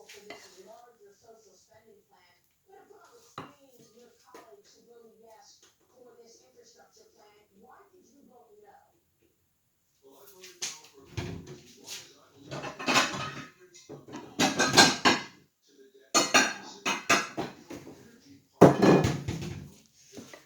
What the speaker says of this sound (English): Mix it all together, all those ingredients.